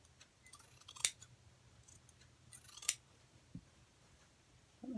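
Two sharp, brisk snips of scissors cutting through a Crown Royal cloth bag, spaced about two seconds apart, close by, with a soft low hum underneath.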